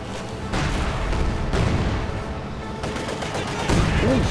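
Heavy machine gun fire in a Company of Heroes 2 battle, dense overlapping bursts of rapid shots with booms and crashing artillery mixed in, loud and continuous throughout.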